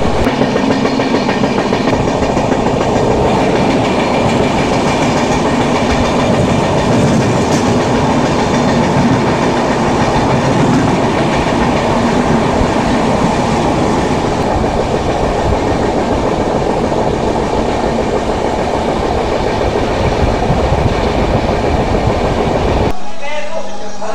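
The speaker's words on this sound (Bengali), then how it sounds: "সম্বলেশ্বরী এক্সপ্রেস, সেদিক থেকে ইঞ্জিন আবার ঘুরপথে গিয়ে উল্টো দিকে ট্রেনকে টেনে নিয়ে যায় তার গন্তব্যের দিকে" Samaleswari Express passenger train on the Jagdalpur to Howrah route in India, heard loud and close throughout with a steady rolling rumble and rhythmic rail clatter that cuts off abruptly near the end.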